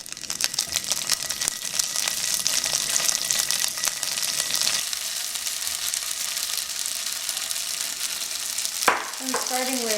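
Extra firm tofu fries in a little oil in an uncrowded pan, a steady close sizzle and crackle that dips at the midpoint, and a brief voice comes near the end.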